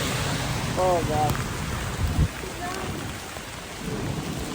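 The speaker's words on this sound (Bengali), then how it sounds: "আমরা ট্রেনের কাছাকাছি খুব দাঁড়িয়ে আছি, এখানেই বৃষ্টি পড়ছে" Heavy rain pours steadily near a train station in Interlaken, Switzerland, a dense close hiss with a few brief voices heard over it.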